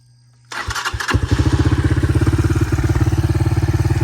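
A Honda 200X ATV fitted with a Chinese engine cranks and fires up, settling into a loud, close, steady thumping idle with a rapid regular pulse.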